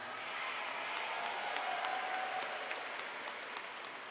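Children in an Islamic kindergarten class give a group clapping chant, a steady wash of many small hands applauding at moderate distance, fairly even throughout with no clear spoken words on top.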